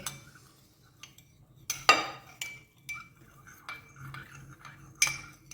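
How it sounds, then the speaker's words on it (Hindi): A spoon clinks against a bowl while yellow food colour is stirred into vinegar as a marinade for chargha chicken, giving sparse, faint taps and scrapes at irregular intervals in a quiet kitchen. "ये जर्दे का रंग मैंने इसके अंदर सिरके के अंदर शामिल कर दिए।"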